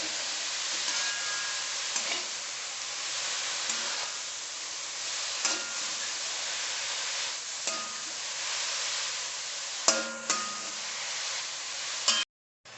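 Spinach stirred and cooked in a pan for a spinach thoran, a constant soft frying hiss with periodic scrapes and knocks of a spoon against the pan, ending in a sharp clatter.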